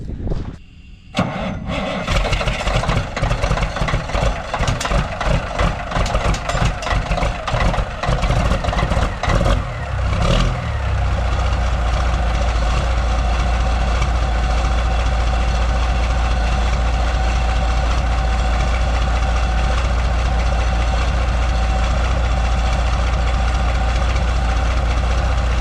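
A Peterbilt truck's diesel engine cold-starts in midwinter, cranking and rumbling roughly for several seconds before catching and settling into a loud, steady low idle, heard close by with no talk.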